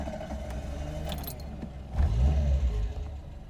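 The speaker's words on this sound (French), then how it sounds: "on peut se faire un petit démarrage" A Renault Super 5 engine cranks and catches, then revs up into a louder, deeper roar toward the end, heard close by with some small metallic jingling early on.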